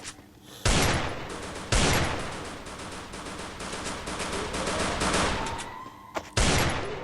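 Gunfire in the mobile battle game Free Fire, sharp single shots and rapid bursts cracking loudly over a continuous roar of game action, with one more shot near the end.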